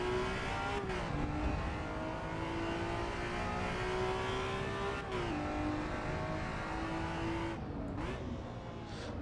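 A race car's engine revs steadily in the Assetto Corsa EVO driving game, rising and dropping in pitch with gear shifts, loud and close throughout with no talking.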